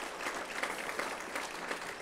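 Steady applause from an audience at a city's State of the City address, many hands clapping evenly at moderate distance for about two seconds with no voices over it.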